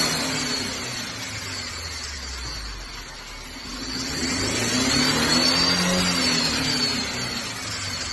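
2013 Mercedes-Benz C250 with a misfiring engine, revved up from idle, the engine note dropping and then climbing into a steady rising drone, heard close with no talking.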